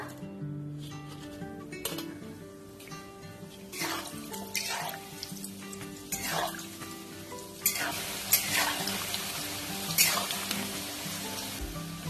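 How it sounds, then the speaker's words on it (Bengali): Chicken pieces for Gondhoraj chicken fry are double frying in hot oil with a loud, crackling sizzle that swells and bursts as they are stirred, over faint background music. "চিকেনগুলো আমি ডবল ফ্রাই করে নিচ্ছি"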